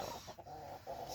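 Broody hen in a chicken coop making a few soft, low clucks in quick succession, close by and quiet.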